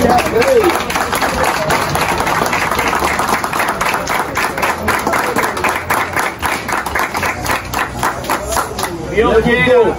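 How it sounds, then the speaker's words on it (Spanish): Loud, sustained applause from a crowd, with dense clapping throughout and a voice rising at the end. "un gran aplauso para ver si él lo escucha"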